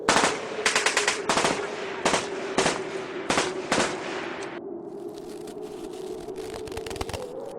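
Rapid bursts of gunfire crack close by, several sharp volleys in quick succession, then fainter scattered shots continue over a steady background hum.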